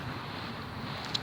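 Wind blowing across a night beach on the Walberswick Suffolk coast, a low continuous rumble with microphone buffeting, faint and steady without speech.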